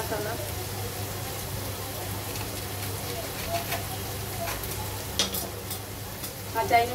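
A Chinese-style home-cooked dish frying in a pan gives a steady sizzle and hiss throughout, with occasional scraping stir clicks growing toward the end, close by and moderately loud.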